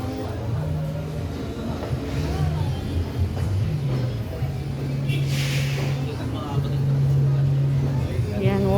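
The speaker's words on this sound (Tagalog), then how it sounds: "Yung traffic, sobrang traffic." Heavy street traffic at a rainy Philippine market, with idling and passing engines and a steady motor drone, plus people talking nearby.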